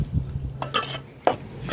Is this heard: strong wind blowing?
no